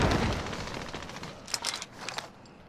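Gunfire in an online multiplayer shooter match: rapid bursts of automatic shots, fairly quiet and somewhat muffled, with a few sharper cracks near the end and no talk over it.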